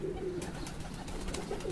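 A pigeon being caught over water gives soft low coos, a couple of murmuring calls over a steady outdoor background, fairly close with no speech.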